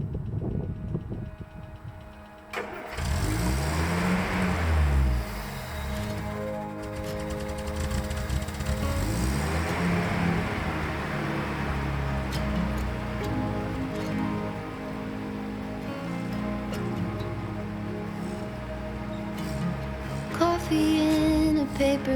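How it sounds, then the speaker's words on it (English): Steady, rapid mechanical ticking from an electric fuel pump fitted to a Land Rover Series III, a dense patter that runs continuously for about twenty seconds against a low hum, fairly close and at an even level. "Which is why you will hear the ticking sound of that pump right now."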